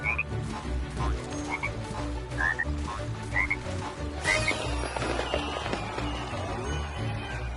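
Frogs croak in a Lego video game, short chirpy croaks repeating over a steady music and ambient game soundtrack, with a brighter burst of game sound effects partway through.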